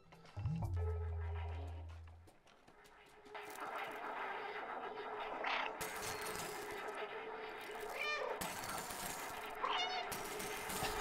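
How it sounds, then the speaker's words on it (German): A cat in the video game Stray gives a short meow near the start. Soon after, a long stretch of crackling, buzzing electronic interference from screens takes over and stays fairly steady to the end. "wenn ich miaue, kriegen die Bildschirme hier eine Störung"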